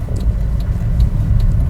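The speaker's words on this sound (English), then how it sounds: "there goes the Mini Cooper JCW" A Mini Cooper JCW drives by, heard as a steady low engine and road rumble that stays loud throughout with faint repeated ticks above it.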